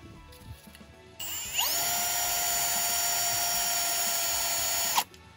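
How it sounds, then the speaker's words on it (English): A power drill whirs up and runs at a steady high pitch for several seconds while drilling through a metal bracket on a water tank strap, then stops abruptly, close and loud over faint background noise. "We're just going to drill through here"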